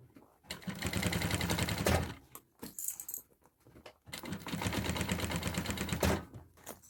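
A sewing machine stitches through layers of a bag in two sustained bursts of rapid mechanical clatter, separated by a short pause with small handling noises.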